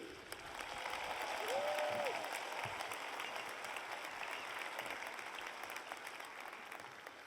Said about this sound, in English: Guests, please provide one last round of applause for all our amazing award winners this year.